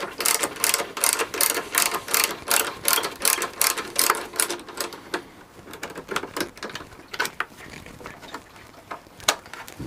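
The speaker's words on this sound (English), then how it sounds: "these ratchet spanners make life a little bit easier" A ratchet spanner loosens the bodywork clips on a 2016 Triumph Speed Triple. It clicks in quick, repeated bursts that slow into sparse, separate clicks, close and clear.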